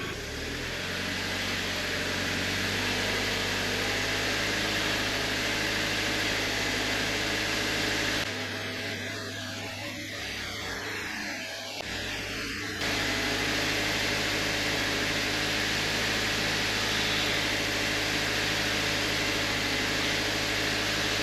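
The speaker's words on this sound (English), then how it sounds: "now we've got to rev the engine to 1500 revs for 1 minute" An Audi TT engine held at a steady 1500 rpm, a constant dense hum and hiss with a brief dip partway through, close and unchanging, and no talk.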